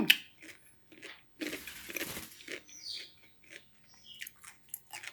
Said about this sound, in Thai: นี่ยอดมะพร้าวกรอบ